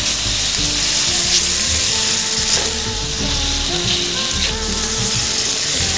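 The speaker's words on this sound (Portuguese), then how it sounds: "Agora vamos refogar isso aqui." Food sautés in butter in a pan, giving a loud, close, continuous sizzle with bubbling crackle and occasional clinks and scrapes of a utensil, steady for the whole stretch.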